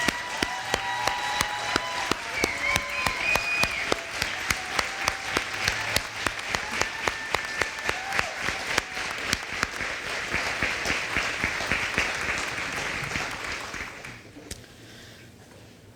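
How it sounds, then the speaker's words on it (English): An audience at a university multicultural center groundbreaking ceremony gives a warm, sustained round of applause, with crisp close claps over a full crowd and a few whistles or cheers, before it tapers off over the last couple of seconds. "please stand up to a warm round of applause."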